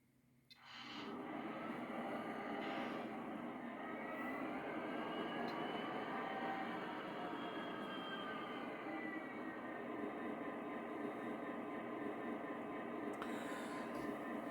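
Two model locomotive sound decoders, one a Tsunami2, start up together: a short clank, then a steady diesel idle rumble with layered engine tones that holds on alone at moderate level.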